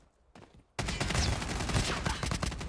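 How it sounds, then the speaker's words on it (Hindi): Rapid automatic gunfire in the Call of Duty Mobile game, a dense loud fusillade erupting suddenly after a quiet moment and continuing steadily. "मुझे राइट से फायर की साउंड आई"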